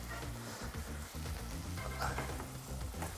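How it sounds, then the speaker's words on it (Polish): Stuffed chicken fillet sizzles and crackles in a hot pan, a steady close frying hiss with popping spatters and occasional stirring scrapes. "jeżeli kurczak nam się smaży"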